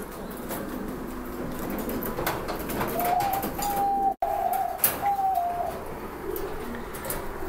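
Cooing from a pair of pigeons being paired for mating, male and female, low soft coos repeating over a steady room background, one short knock near the middle.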